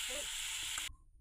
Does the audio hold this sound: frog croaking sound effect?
no